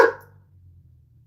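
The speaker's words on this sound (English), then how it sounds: "I don't know what this dog is doing." A single short dog bark, sharp and close, cutting off quickly into a faint low hum.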